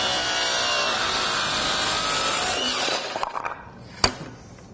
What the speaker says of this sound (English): Final cut will be the tail end of the rafter, and this will be cut at a 45 as well.